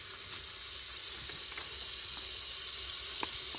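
Butter sizzling in a preheated Cookeo electric multicooker pot on browning mode, a steady soft crackle with a few sharper pops, close and alone.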